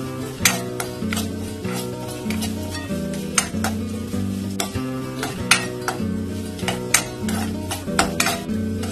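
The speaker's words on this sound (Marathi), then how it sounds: "तेलामध्ये खसखस चांगली परतून घ्यायची आपल्याला." Poppy seeds crackle and sizzle in hot oil in a pan, steady frying noise punctuated by regular sharp scrapes and clinks of a spoon stirring against the metal, close and continuous with no talk.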